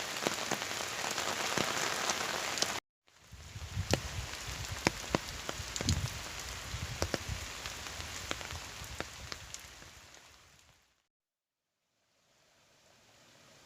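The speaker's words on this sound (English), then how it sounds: "Quite a bit of rain, huh?" Steady rain in Ohio patters on a surface, dotted with distinct drips, cutting out briefly twice before resuming.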